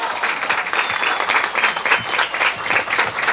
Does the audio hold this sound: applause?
yes